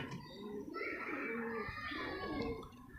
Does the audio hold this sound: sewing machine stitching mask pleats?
no